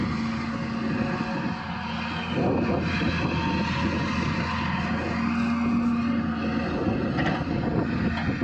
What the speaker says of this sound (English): we're having a problem with the drone